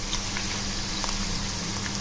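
Dried red chillies sizzling steadily in hot oil for a tempering for raw mango dal, a continuous close frying hiss with faint crackles and no talk.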